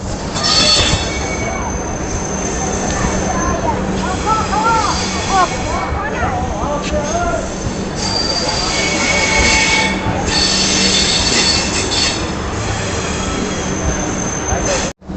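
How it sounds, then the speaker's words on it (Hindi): The Yoga Express from Ahmedabad pulls into platform 6 at Sabarmati station, with loud, sustained metallic wheel squeal and rolling rail rumble heard from on board, and background voices mixed in throughout. "साबरमती के प्लेटफॉर्म नंबर 6 पर हमारी ट्रेन का अराइवल हुआ है।"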